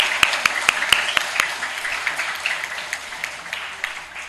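Scattered hand claps from a group at a school gathering, applauding teachers: a few sharp distinct claps first, then a looser, quieter patter of clapping continuing to the end.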